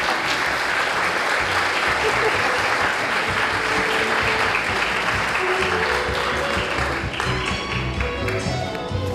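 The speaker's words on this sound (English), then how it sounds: "Let's give them a round of applause." Sustained applause from an audience at a Teacher of the Year celebration as presenters come to the podium for the Rising Star Award, a steady wash of many hands clapping with faint voices underneath.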